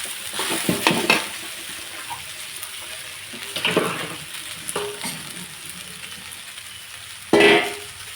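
Chopped spring onion greens stir-fried in a hot pan, with soft scraping stirs and a light sizzle, a few louder clattering strokes standing out, no talk.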